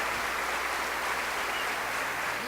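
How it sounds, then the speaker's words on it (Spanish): A church congregation claps together at a night service, a steady broadband wash of applause filling the space throughout. "Demos un aplauso al Señor en esta noche"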